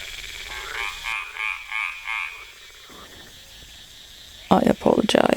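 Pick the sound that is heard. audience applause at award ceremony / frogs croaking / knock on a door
frogs croaking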